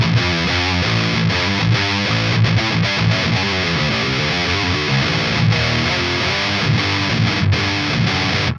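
A heavily distorted metal electric guitar through a REVV preamp pedal into a Brunetti XL power amp plays loud, chunky riffs with short chugging stops, a thick saturated tone filling the whole passage.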